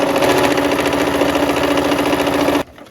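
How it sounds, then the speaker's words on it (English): A sewing machine stitches long quilt fabric strips together in a steady, fast mechanical whir that runs continuously and loud, then stops abruptly near the end. "we are sewing our strips together"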